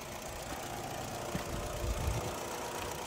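A Kia Sedona 3.5 minivan engine idles steadily with a low, even rumble and a faint rhythmic knock, fairly close, with no voices.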